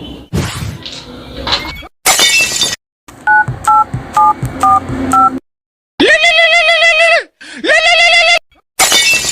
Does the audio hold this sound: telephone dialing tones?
yes